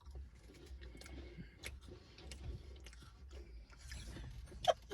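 Quiet, close crunching and chewing of a Pandora butter cookie snack from Japan, soft repeated bites with faint ticks, no talking.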